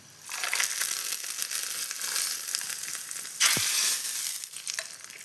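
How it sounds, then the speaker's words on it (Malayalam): Ingredients for coconut chutney fry in a pan with a dense, crackling sizzle that builds early on, then surges louder for a moment after a dull knock midway, fading slightly toward the end. "ചമ്മന്തിക്ക് വറുത്തിടുകയാണ്"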